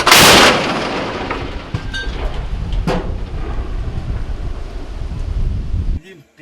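A loud artillery blast opens with a sharp crack, followed by a long rolling rumble and outdoor wind noise before it cuts off.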